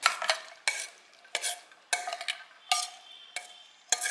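A spoon scrapes and stirs through thick cooked chana dal in a pot, in repeated strokes about every half second, close and fairly quiet with no talking.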